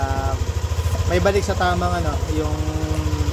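A Yamaha Aerox V2 scooter engine idles with a steady low, pulsing putter, close and even, while someone talks over it.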